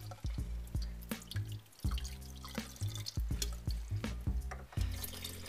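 Water spills and drips as soaked quinoa and buckwheat are tipped out to drain, giving a close run of splashy drops and trickles over a steady low hum, with no voices.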